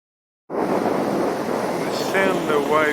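Ocean waves wash over a pebble beach at Cement Block near Terrace Bay, a steady loud rush with wind buffeting the microphone, then brief rattling of stones dragged back toward the end.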